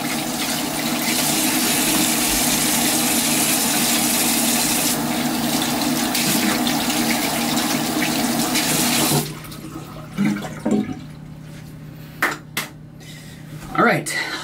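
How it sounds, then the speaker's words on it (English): A kitchen or bathroom sink tap runs in a loud, steady rush while someone washes up. After about nine seconds it shuts off and is followed by a few soft clinks and handling sounds. "Let me just wash up here."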